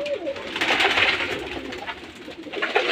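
Giribaz pigeons housed in a loft built in an abandoned space coo within a dense, hissing wash of many birds and fluttering, loud and continuous throughout with no talk.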